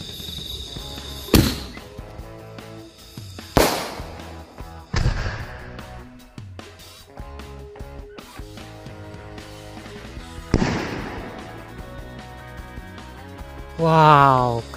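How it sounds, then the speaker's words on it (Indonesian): Pink firecracker ball launcher fireworks set off at night during Ramadan, giving several sharp, loud booms at irregular intervals with crackling tails, and a whistling rise near the end; someone talks between blasts. "selanjutnya kita nyalakan mercon bola launcher"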